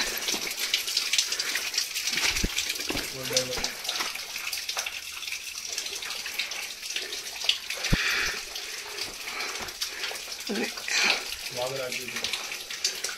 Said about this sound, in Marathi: इथून पाणी पडतंय.